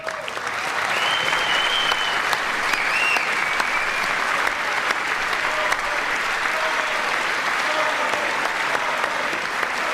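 Loud, sustained applause from a large audience at a State of the Union address, steady clapping that fills the whole stretch without letting up.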